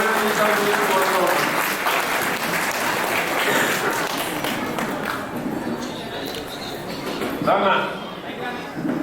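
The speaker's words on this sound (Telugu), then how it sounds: "గట్టిగా చప్పట్లో వెళ్ళి మా మోహన్ రావాలని అభినందించాలని కోరుతున్నాం." Audience applause at a political gathering, a broad, dense wash of clapping that runs steadily throughout at fairly close range, with a brief louder swell near the end.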